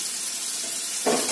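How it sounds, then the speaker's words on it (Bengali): Crushed garlic dropped into hot oil, a soft steady sizzle that swells suddenly louder near the end as the garlic hits the pan, close by with no talking. "এবার এই থেতো করা রসুনটা এতটা আমি তেলের উপর দিয়ে দিলাম"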